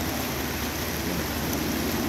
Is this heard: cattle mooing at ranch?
no